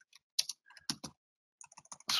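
Keys on a computer keyboard tap in short irregular clusters of crisp clicks, close and clear, with brief silent pauses between bursts.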